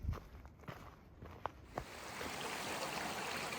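A few footsteps crunch along the Appalachian Trail, then the steady rush of a small creek fills the scene, a close, continuous wash of flowing water.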